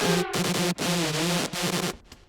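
A buzzy synth lead plays a choppy, reversed-sounding phrase with warbling pitch sweeps, dense and loud, fading out at the end.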